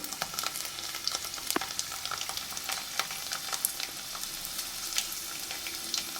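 Garlic frying in peanut oil gives a soft, continuous crackle with scattered sharp pops, quiet and close, with no voices.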